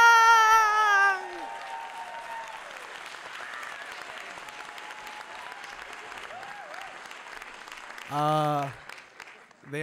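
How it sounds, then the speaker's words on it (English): An audience applauds at a PechaKucha night held in a new public library in Calgary, a steady, moderately loud wash of clapping that runs for several seconds, with a voice briefly at the start and again near the end. "Round of applause for Andrew"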